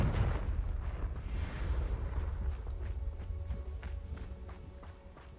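A Confringo spell blast in Hogwarts Legacy: a heavy, booming explosion and rumbling impact that fades slowly, with dense low noise and faint crackling layered on top.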